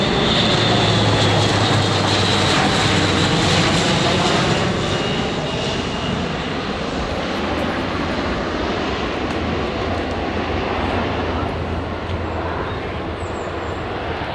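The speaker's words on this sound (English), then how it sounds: "So we just saw that big jet again." Big jet airliner passing overhead in rural Scotland, a loud broad roar sustained throughout that slowly eases off toward the end, with no talk.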